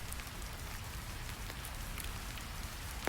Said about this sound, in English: Rain begins falling outside the windows. Drops tap gently against thick glass.